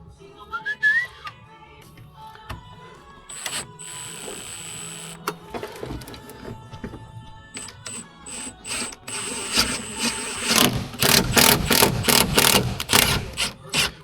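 A ratchet wrench torques handbrake bolts on a BMW drift training car during a hydraulic handbrake install, with bursts of rapid clicking and a denser run of loud ratcheting near the end, amid whistling tones and workshop clatter.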